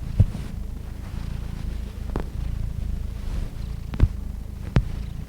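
A cat purrs close up in a steady, low rumbling rhythm, with a few soft clicks or taps breaking in.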